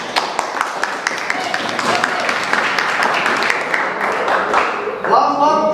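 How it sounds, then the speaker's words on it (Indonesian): Classroom audience clapping for a student group, a dense steady patter of many hands lasting several seconds, with a voice starting to speak as it ends. "bagus sekali tepuk tangan untuk kelompok 2"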